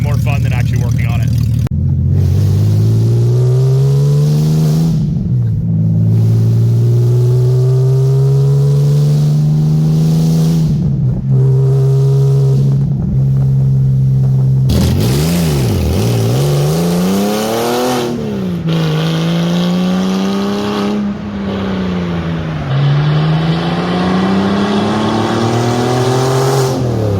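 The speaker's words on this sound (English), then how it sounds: "we're just going to go take a ride and hope that the Porsche fixes itself" A Porsche, a cheap car under repair and fault, drives along with its engine droning loud and close, pitch rising and falling through gear changes and revs, with brief gaps where it cuts out.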